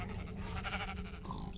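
A sheep in Minecraft gives a short bleat, a quick wavering cry of under two seconds over a steady game background.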